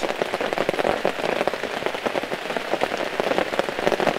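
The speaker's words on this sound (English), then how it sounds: "The rain's picking up again, Monty." Heavy rain drums on a camping tarp in a dense, continuous patter of close droplets, loud and unbroken throughout, with no voices.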